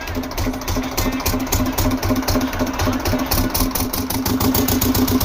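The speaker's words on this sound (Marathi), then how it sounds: "झाली आपली मोटर चालू." A fishing boat's motor thumps at a loud, rapid, even idle close to the microphone, running continuously without pause.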